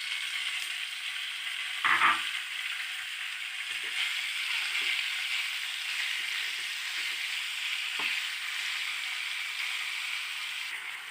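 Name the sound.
chicken frying in a pan for lasagna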